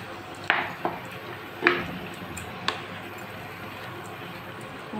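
Homemade tomato sauce being stirred in an open pan, with three sharp utensil clinks against the metal at irregular intervals over a low background hiss, no voices.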